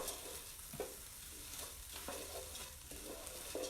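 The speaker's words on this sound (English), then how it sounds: "I'm just looking to give this a stir" Lentils for chili are stirred in a pot over a low, continuous sizzle, with faint spoon scrapes and soft knocks recurring every half second or so, quiet and close.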